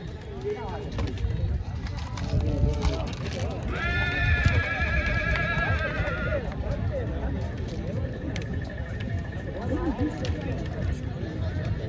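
Horses at a village fair race near a temple, with a loud whinny rising over a steady hubbub of clip-clopping hooves and crowd noise throughout.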